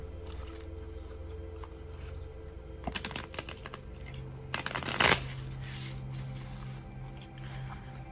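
Tarot cards riffle in two quick, crisp bursts, a fast fluttering shuffle heard close up against a low background hum.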